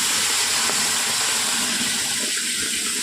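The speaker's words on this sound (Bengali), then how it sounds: "এরপর আমি জল দিয়ে দিচ্ছি।" Water gushing in a continuous, loud rush as it is poured into a pot of vegetarian bhog khichuri whose spiced vegetables have already been fried. The pour lasts a few seconds with no one speaking.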